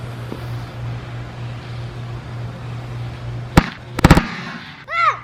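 A firework exploding inside a piece of fruit outdoors, heard as one sharp bang followed by a quick cluster of cracking pops over a low background hum, then a voice rising right after.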